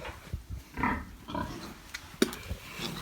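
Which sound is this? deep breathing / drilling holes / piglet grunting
piglet grunting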